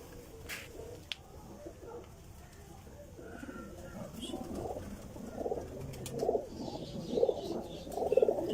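Pigeons coo repeatedly in a loft of flying pigeons, soft low throaty calls that grow more frequent and louder toward the end, with a faint voice and light chirps in the background.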